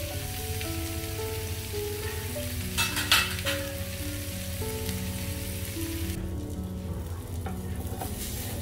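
Pomfret (vaaval) fish frying tandoori style in a pan, a steady close sizzle and crackle running throughout with a brief louder spatter burst, under soft background music and no talk.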